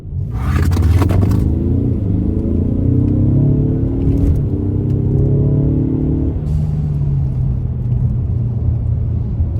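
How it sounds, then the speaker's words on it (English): A 2020 Ford Mustang EcoBoost with a new intake and blow-off valves accelerates hard, heard from inside the cabin, with a rising engine drone through the gears and a sharp whoosh of released boost between shifts. "I'm gonna show you guys what it's like with an intake and blow-off valves from the inside"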